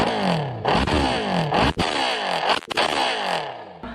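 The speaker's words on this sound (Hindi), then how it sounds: "एक छोटा सा एग्जॉस्ट नोट पुराना, मतलब पहले का एक वायरल का डाल रहा हूँ इसी वीडियो में" A superbike revs hard and close in short repeated bursts, each one climbing then falling away. Brief dips in the sound separate the bursts.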